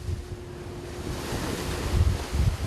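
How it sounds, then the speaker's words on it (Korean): Huge sea waves crash over a fishing boat working nets at night in a storm, a roaring, wind-buffeted surge of water with heavy low thumps building toward the end. "계속해서 집채만한 파도가 원서코를 덮쳐오고"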